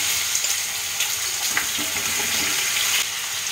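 Raw banana pieces fry with whole cumin seeds in hot oil, a loud continuous sizzle with faint stirring crackles, close up and without voices.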